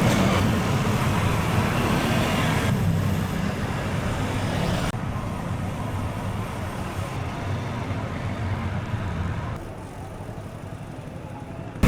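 Steady road traffic roar while cycling a service road toward Alabang on a hot morning, with broad continuous engine and tyre noise from cars, buses and trucks, loud and close throughout, easing slightly near the end.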